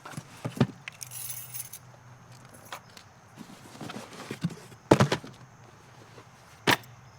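Metal snaps and hardware on a Vanson Stormer waxed canvas jacket jangle and clink during handling, a few sharp bright bursts amid quieter rustling of stiff fabric.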